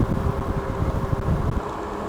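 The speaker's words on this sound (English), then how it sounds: "it's pretty windy out here today" Steady wind buffets the microphone outdoors while riding a Philodo Jumbo AWD vehicle on a bumpy road, a continuous low rumbling roar that fills the whole stretch without talk.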